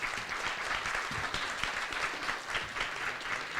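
Applause from an audience closing a university forum with distinguished panelists: a continuous, full burst of many people clapping, with some individual claps standing out, and no talk over it.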